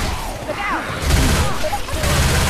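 Gunfire in Left 4 Dead 2 crackles in bursts under shouting players, the shots loud and close, with several sharp blasts running through the second half.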